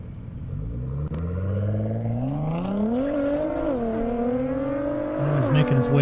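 Nissan GT-R on a half-mile airport drag strip, engine climbing steadily through the gears in a loud rising roar with brief shift dips, joined by another deep rumbling engine near the end.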